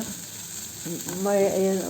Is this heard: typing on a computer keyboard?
no